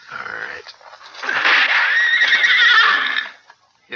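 A horse gives a loud, shrill whinny after being struck, part of a radio drama Western gunfight scene; the neigh rises and wavers for about two seconds, close and prominent.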